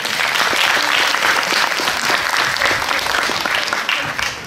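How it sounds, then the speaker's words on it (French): An audience applauds a speech contest candidate at an eloquence event, a dense, steady burst of many hands clapping that holds loud and close throughout before easing slightly at the end. "On peut l'applaudir, s'il vous plaît."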